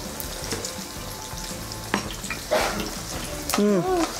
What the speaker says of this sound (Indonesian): tahu digoreng panas-panas langsung dianclomin karena serbuk cabe